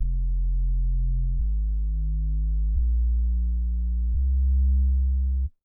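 A drum and bass synth bass plays a four-note progression, a deep, smooth sine-like tone held about 1.4 seconds per note and stepping in pitch, loud and alone before cutting off abruptly.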